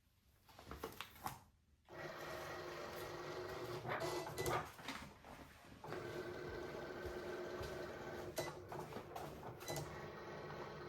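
Cricut cutting machine slicing cardstock, a steady motorized whirring and grinding with intermittent clicks and carriage movements, running close after a short quiet start.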